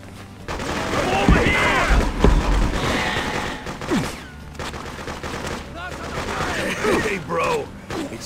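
Gunfire in the video game Freedom Fighters, dense bursts of shots and booms layered over game sounds, loud and continuous, with a voice talking over parts of it.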